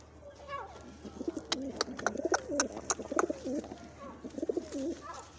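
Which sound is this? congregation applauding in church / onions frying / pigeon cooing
pigeon cooing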